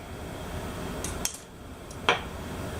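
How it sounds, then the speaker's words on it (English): Vegetables tossed with olive oil, salt and pepper in a bowl, heard as a couple of sharp utensil clinks and scrapes against the dish over a quiet background. "we're just going to give this a nice little stir"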